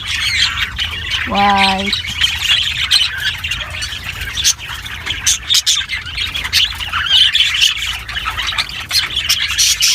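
Lovebirds give a loud, harsh squawk, then keep up frequent sharp chirps and tweets close by. A person talks intermittently over the birds.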